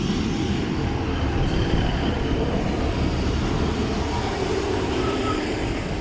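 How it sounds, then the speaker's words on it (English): Train 15219 rumbles steadily into a station near Exeter on its way to Exeter Central, a continuous, fairly loud rolling roar of wheels and engine that holds for the whole stretch without any talk. "Okay, in comes our train."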